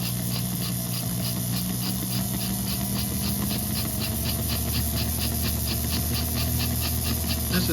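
A 1953 diecast NKP 0-8-0 switcher model locomotive runs continuously, making a steady mechanical hum and whir with rapid regular ticking from its drive gear, close and unbroken.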